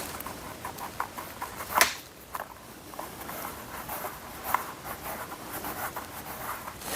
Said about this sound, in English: you can burnish that edge so that it helps it from coming apart on you